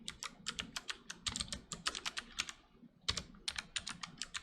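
Fast, uneven typing on a computer keyboard during a coding session, a dense run of close, crisp clicks with a short pause partway through and no voices.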